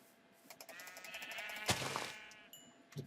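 A video-game goat bleats in a single drawn-out, wavering cry at moderate volume, followed by a brief thud near the end.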